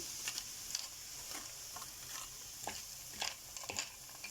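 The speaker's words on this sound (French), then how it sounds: "il faudra mélanger vraiment très régulièrement" Seafood salad mixture being stirred in a pan, with soft intermittent scrapes and light sizzling patter over a steady hiss, fairly quiet and with no voices.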